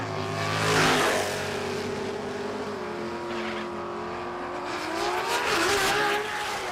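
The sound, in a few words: drag racing car with 8-speed gearbox launching off the line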